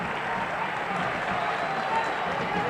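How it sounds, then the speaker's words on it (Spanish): A football stadium crowd at a Paraguayan league match between Cerro Porteño and Libertad applauds in a sustained, even wash of clapping, with a commentator talking over it. "Sí, por ahora aplaudiendo, sin tanta euforia, pero reconociendo el esfuerzo"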